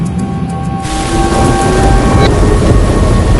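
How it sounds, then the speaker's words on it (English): A thunderstorm at Toronto's international airport gives a loud, steady roar of rain with deep rumbling thunder building partway through. "At Toronto's International Airport, the thunderstorms are already rolling through."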